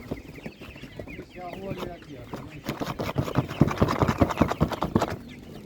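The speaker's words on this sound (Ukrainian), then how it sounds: "Досить вона така м'язиста, велика. Дуже гарна курка." Spanish breed chickens cluck and squawk at an outdoor animal market, with bursts of clucking amid busy background noise, rustling and occasional voices.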